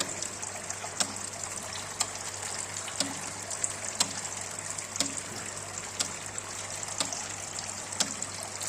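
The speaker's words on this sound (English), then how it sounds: "once I start the button, automatically the water will be started" Water from a PLC-controlled square water curtain fountain falls and splashes in a steady trickling rush. Faint regular clicks recur about once per second above a low constant hum.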